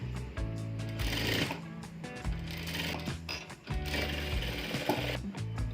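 A sewing machine stitches a strip around the round neckline of a one-piece umbrella dress at a half-inch seam allowance, a quick mechanical clatter in short repeated runs with small gaps between them.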